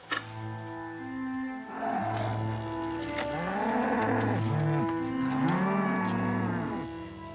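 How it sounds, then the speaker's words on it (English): Skarhult cattle grazing on castle meadows moo repeatedly, long low bellowing calls that overlap and rise and fall, several animals close by and loud with no talk. "The Skarhult cattle that graze on the castle's meadows"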